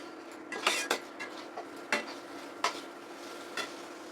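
A metal spoon scrapes and clinks against a pan as turmeric is stirred in for shim paturi. Several sharp, close scrapes come in an uneven rhythm over a faint background sizzle, with no one speaking.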